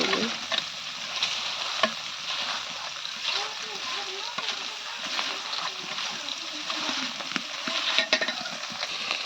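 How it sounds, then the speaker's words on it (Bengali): Fish frying in oil in a pan gives a steady, close sizzle with crackling spatter and occasional light clatter, continuing for the whole stretch. "মাছ তুলে দিয়ে দিচ্ছি মাছ ভাজা হলে চলা তরকারি বসাই"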